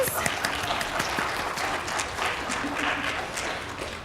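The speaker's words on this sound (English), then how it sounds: "So if we can give these people a big round of applause." Audience applause at a college presidential briefing, a steady wash of many hands clapping that carries through the whole stretch at moderate loudness, with a few individual claps standing out near the front.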